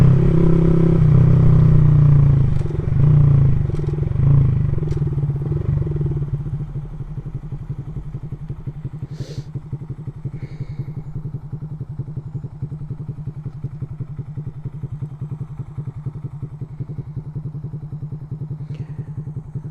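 A Honda Grom motorcycle fitted with a big bore kit is ridden in traffic. Its engine revs loudly at first, then settles into a steady, rapid idle-like putter heard up close, with wind buffeting.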